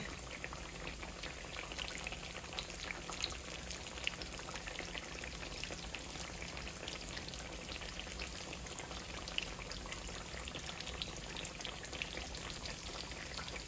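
Homegrown squash slices fry in oil in a pan with a steady, dense crackle and sputter that runs without a break, close and moderately loud, and no one speaks over it.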